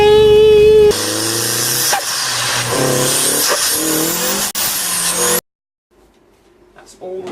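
A car engine runs after sill and castle rail welding repairs, a loud rough idle and revving for about five seconds before it cuts off abruptly, leaving near silence with faint handling noises.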